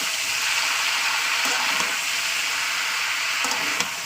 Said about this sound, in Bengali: তো চলুন ভালো করে একটু ভাজা করে নিই